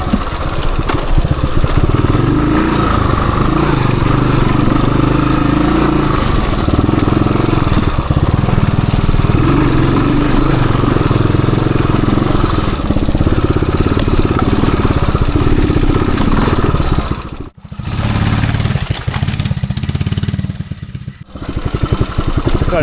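A 1978 Suzuki DR370 motorcycle runs on a woods trail, its engine chugging steadily and loud at low, relaxed throttle for the whole stretch, with a couple of brief dips near the end.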